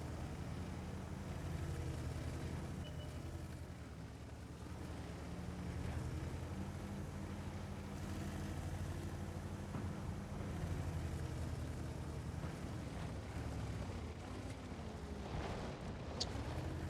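A BZ-75 heavy tank driving in World of Tanks, a low continuous engine rumble and track noise under a windy wash, steady and moderately loud for the whole stretch, with no speech.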